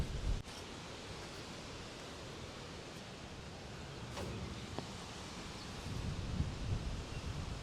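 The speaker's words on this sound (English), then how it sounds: "The wind is blowing so strong it's pretty much turning it without my help." Strong wind roars steadily around a playground merry-go-round in an outdoor Oklahoma town, a broad rushing noise with occasional faint creaks and gusts swelling near the end.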